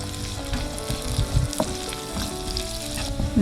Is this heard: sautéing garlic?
yes